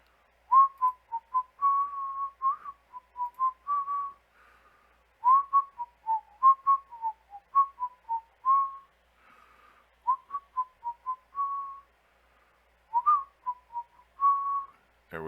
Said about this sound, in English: I was too busy whistling.